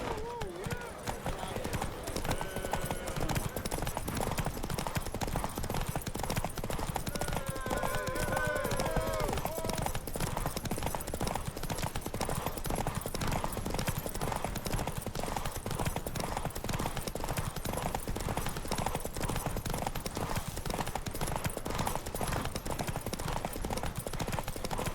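Horses gallop in a race in The Witcher 3, a fast, continuous clatter of hooves under game music, with a brief whinny and voices talking over it.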